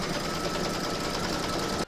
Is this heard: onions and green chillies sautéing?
no